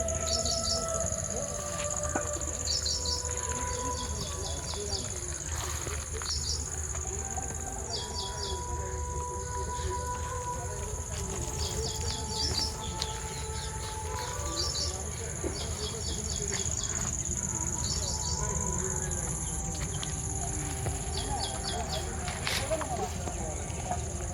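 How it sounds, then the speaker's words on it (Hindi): Birds chirping from every side in Nisarg Udyan, a leafy park in Navi Mumbai, with repeated trilling calls and a high steady insect-like whine over a constant outdoor hum, medium loud and continuous. "यहाँ पे खड़े होना बीच में तो ऐसा लगता है कि एकदम चारों तरफ से पक्षियों की आवाज़"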